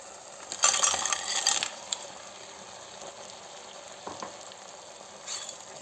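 Cleaned crab hitting a pan of cooked-down tomato and onion, a loud burst of sizzling frying with stirring clatter that settles into a steady softer hiss with occasional spoon scrapes.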